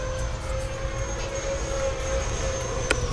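An FMS Super Scorpion 90mm electric ducted-fan RC jet flying overhead with its gear down, a steady whining turbine-like roar holding a constant pitch, fairly loud and continuous with no voices.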